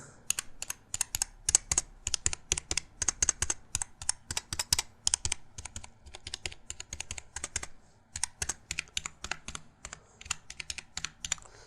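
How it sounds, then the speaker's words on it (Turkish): Rapid typing on a Rampage X-Jammer membrane gaming keyboard, with dense bursts of soft key presses in quick irregular runs, close and clear with brief pauses between flurries. "isterseniz klavyenin sesini şu şekilde size bir dinleteyim"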